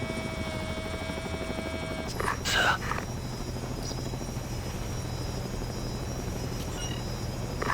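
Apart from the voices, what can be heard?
drone flying in Ghost Recon Advanced Warfighter 2 video game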